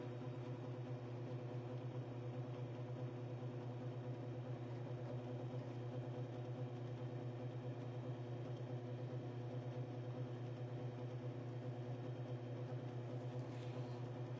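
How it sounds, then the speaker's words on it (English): A Timken bearing test machine runs with Mobil 1 synthetic oil on the bearing race, a steady low mechanical hum and drone with constant loudness throughout, no talk. "We'll turn the machine on."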